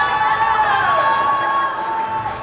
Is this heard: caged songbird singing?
no